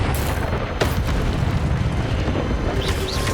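Fiery spell blasts crackle through a Hogwarts Legacy battle: a dense, rumbling wash of booms with a sharp burst early on and whooshing effects near the end.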